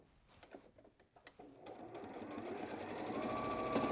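A sewing machine stitches fabric pieces together for a cat softie toy. Scattered handling taps come first, then the motor starts and runs in a steady, building whir until the end.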